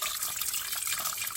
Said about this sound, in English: I'm filling my water.